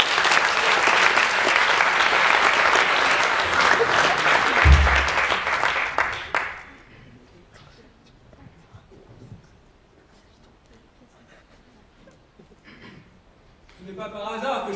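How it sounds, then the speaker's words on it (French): An audience at an eloquence competition applauds loudly and steadily in a hall for about six seconds, then the clapping stops and near-quiet follows, with a voice starting to speak at the very end. "Merci d'applaudir comme il se doit"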